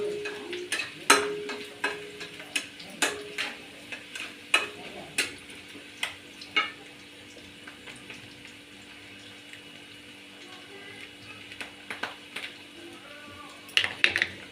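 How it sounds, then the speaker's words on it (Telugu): Chicken deep frying in hot oil, bubbling steadily while a series of sharp clinks and scrapes from stirring punctuate it, with a short lull in the middle before the knocking returns. "బాగా డీప్ ఫ్రై అవ్వాలి, కొంచెం పచ్చిగా ఉండకూడదండి."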